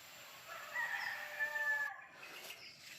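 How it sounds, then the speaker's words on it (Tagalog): A wild chicken rooster crows once, a drawn-out cock-a-doodle-doo from a little distance, followed by faint clucking in a quiet outdoor setting. "Maraming manok dito na yung ihalas yata. Yung wild na wild chicken"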